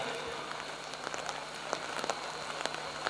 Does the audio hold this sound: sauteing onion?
no